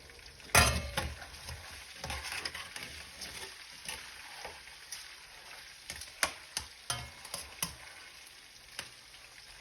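Udon noodles, chicken and bok choy stir-fried in a hot pan, a continuous sizzle broken by repeated sharp clacks and scrapes of a utensil tossing the food, close and moderately loud.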